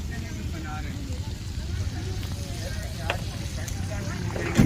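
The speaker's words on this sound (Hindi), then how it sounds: "अभी इसको मैं 5 से 6 मिनट तक और भून लूँगा।" Peshawari mutton karahi frying in a wok over a wood fire at a desert barbecue gives a soft, steady sizzle with occasional stirring clinks, under low outdoor rumble.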